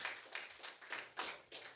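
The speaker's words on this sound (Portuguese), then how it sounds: "As palmas glorificam o nome dele aqui nessa noite." A church congregation claps in a steady rhythm, about six even beats heard faintly and at a distance, with no talk over them.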